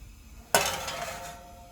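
Filled naan stuffed with minced meat and lentils is shifted onto a baking pan, making a single sharp metallic clank followed by a short scraping rattle that fades, close and alone.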